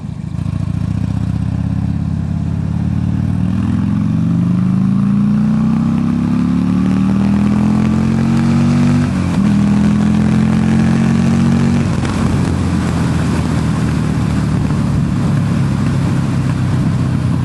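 A motorcycle on a quick ride accelerates loudly and continuously, its engine pitch climbing through the gears with shifts, then easing off amid wind rush.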